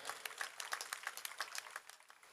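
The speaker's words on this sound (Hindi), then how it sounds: "अपने छोटे भाई मंजीत अवतार के लिए एक बार जोरदार ताली आप बजा दें।" An audience at a stage poetry recital breaks into brief applause, a faint, scattered patter of clapping heard from a distance.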